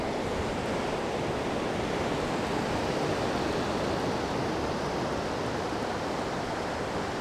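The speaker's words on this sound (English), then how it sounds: "I'm next to the ocean again." Ocean waves roll onto a beach in a steady, dense roar of surf, loud and continuous throughout with a breathy wind-like hiss and no talking.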